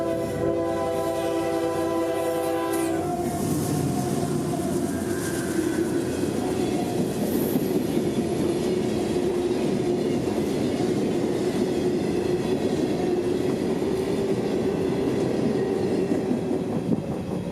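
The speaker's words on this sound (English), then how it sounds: "B311 is another morning staple here, seen rolling over the bypass canal with an empty train of more of those white hoppers." A CSX freight train of empty white hoppers rolls past on the Tampa District, beginning with a horn blast. A steady, loud rumble and wheel clatter of the passing cars follows, with no talk.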